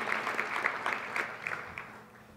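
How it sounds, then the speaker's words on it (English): A graduation audience at a December 2016 Columbia school ceremony applauds, a moderate wash of clapping heard from a distance that fades away toward the end. "I want all of us to give a round of applause to the 2016 December class of graduates."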